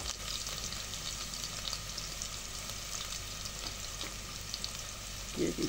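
Pounded garlic and shallots sizzle steadily in oil in a pan, a soft continuous frying hiss throughout, with a faint clink near the end.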